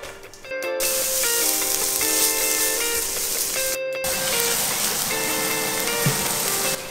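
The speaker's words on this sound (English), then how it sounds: "Once that's heated, we want to put our onions in to get them soft." Onions fry in olive oil in a pan, a loud, continuous close sizzle with steady hiss, broken by two short silent gaps, while tonal background music plays along underneath.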